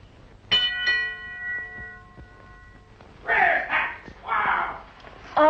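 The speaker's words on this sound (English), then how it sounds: "ring the bell" A friar rings a bell: a single clear ringing peal fades for a few seconds, then a voice speaks over short bursts of other sound.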